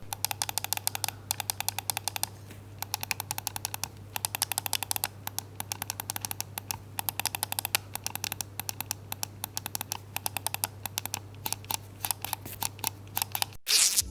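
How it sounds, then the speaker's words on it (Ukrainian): Crisp, short button clicks from a 39-gram GamePro Asgard Odin gaming mouse, fired in quick irregular bursts over a steady low hum, close and fairly quiet with no talking. "клік тут чіткий і короткий"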